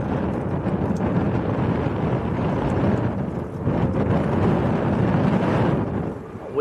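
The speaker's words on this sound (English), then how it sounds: "That wind is definitely picking up" Wind buffets the microphone at Manchester Airport in a continuous broadband roar that swells and eases slightly, dipping briefly near the end, with no one speaking.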